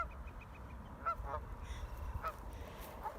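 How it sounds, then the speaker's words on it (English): Canada geese at a wetland honking a few times in the distance, faint calls scattered over a low outdoor rumble. "So these are Canada geese"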